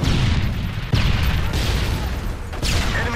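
Grenade blasts and gunfire boom through a Call of Duty-style online match, a few heavy bursts over a constant roar of game noise, close and loud.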